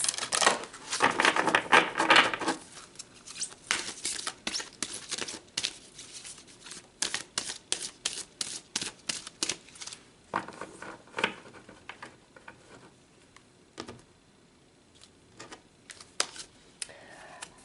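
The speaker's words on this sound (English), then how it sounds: "So let's pull some more cards, Pisces." Tarot cards being shuffled and pulled during a reading; a dense riffling burst at first, then a long run of sparse, close flicks and soft snaps, no talking.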